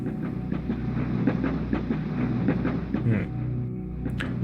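In a video game, a ghost train runs with a continuous low rumble and regular clickety-clack of wheels over rail joints, steady and fairly loud, with a faint hiss near the end.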